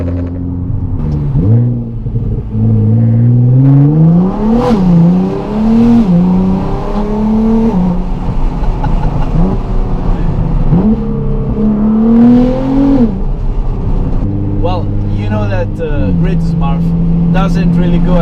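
A Nissan GT-R with a malfunctioning, overly loud exhaust revs and rises and falls in pitch, a close, heavy engine drone with someone talking over it.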